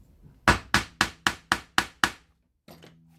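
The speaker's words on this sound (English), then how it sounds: "go ahead and hammer through both layers of leather" A hammer strikes a tool through two layers of leather seven times in an even, steady rhythm, each blow sharp and loud with a quick decay, followed by a fainter, softer knock.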